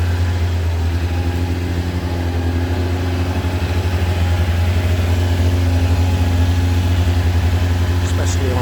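A 1994 Kawasaki ZX-9R B1 motorcycle idles steadily after a cold start at around 1200 rpm, its low, loud engine hum carrying a faint rattly texture throughout, with someone talking over it.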